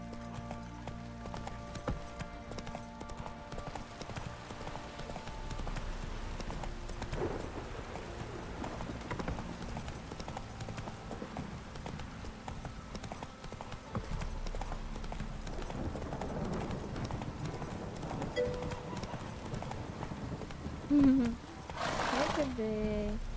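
Roach, the horse in The Witcher 3, gallops in a steady rhythm of hoofbeats that runs throughout under game music and ambience, with a short louder burst near the end.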